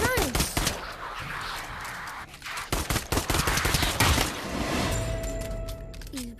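Rapid bursts of gunfire from the VR shooter game Pavlov, loud and close, with a scattered crack or two, a short lull near the middle and a mechanical whine near the end.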